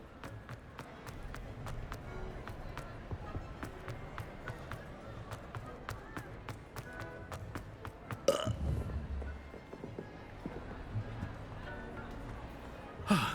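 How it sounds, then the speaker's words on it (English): A character burps in Hogwarts Legacy: a single short, rough burst stands out midway through a steady bed of rhythmic tapping footsteps and game ambience. "I just burped. Polyjuice potion's wearing off."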